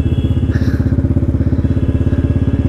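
A large motorcycle engine thumps in a steady, even rhythm close by while being ridden, loud and alone without talk.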